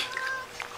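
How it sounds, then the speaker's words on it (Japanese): A cat gives a short, faint meow, its brief cry standing out close by against a quiet indoor background. "にゃーにゃーうるさい猫は飼えへんらしいよ。"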